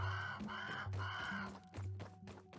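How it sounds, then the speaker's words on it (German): A bird's harsh, honking calls repeat in uneven bursts over a steady game background in Grounded, clear and fairly prominent with no talking; the call is presented as a raven. "Und ich höre den Raben"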